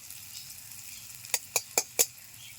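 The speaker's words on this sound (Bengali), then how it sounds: "1 মিনিট মতো নেড়ে নেব। দেখুন পেঁয়াজগুলো লালচে হয়ে এসছে।" Onions fry in a pan while a spatula stirs them, giving four quick, evenly spaced taps against the metal over a quiet, steady sizzle.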